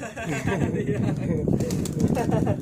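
Pigeons coo and flutter close by on a rooftop where children are being taught pigeon keeping, with people talking over the birds the whole time.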